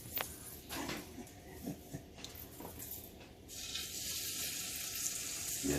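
Short ribs sear in a hot pan, giving a steady, close sizzle and crackle that swells slightly toward the end, with a few soft bumps and spatters on top.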